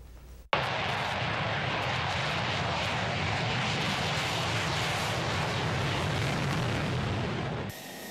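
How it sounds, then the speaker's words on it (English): F-16 fighter jets of the 115th Fighter Wing depart Truax Field, a sudden loud roar that holds as a dense, steady blast of jet noise, then cuts off near the end. "The final F-16s assigned to the 115th Fighter Wing departed Truax"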